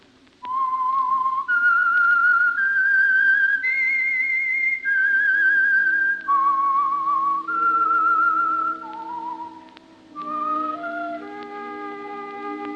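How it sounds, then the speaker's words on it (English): A lone person whistles the theme of the old radio drama The Whistler, a slow, clear melody of long held notes that step up and down, close and unaccompanied, ending on a lower phrase. "That whistle is your signal for the Signal Oil program, The Whistler."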